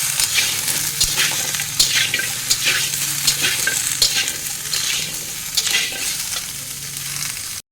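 Mixed vegetables fry in a pan with a steady loud sizzle, while a spoon scrapes and stirs them in an irregular rhythm close at hand.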